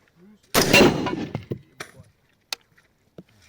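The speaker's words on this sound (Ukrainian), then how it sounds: "Зараз буде влучання в керамічну плиту посиленим набоєм." A single loud rifle shot from an enhanced round strikes a ceramic armor plate with a sharp crack and shattering impact, followed by scattered small clatters of debris falling.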